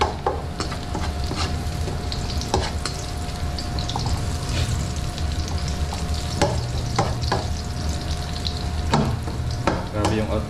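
Garlic sautéing in a pan: a steady loud sizzle of frying with repeated scrapes and clinks of stirring, plus faint water-like sounds, and no talking.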